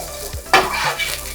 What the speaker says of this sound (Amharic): ደቀቀ ዝንጅብል ከደቀቀ ሽንኩርት እየጨመረ ነው።